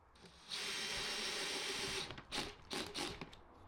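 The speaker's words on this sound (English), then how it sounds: "So I'm going in everywhere now with 35mm torque screws" A power drill drives 35mm torque screws into wood: one long, steady whir, then several short, sharp bursts as each screw seats, heard close up with no talking.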